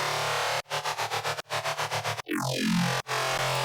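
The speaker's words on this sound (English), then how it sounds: "It's a saw wave that is being detuned in Hertz mode, 9 voices, with the pan being automated," Synth bass patch from a Harmor layer built on a 9-voice detuned saw wave in Hertz mode with automated panning, playing rhythmic pulsing bass notes, then a downward sweeping pitch bend and a final sustained note, alone with no talk.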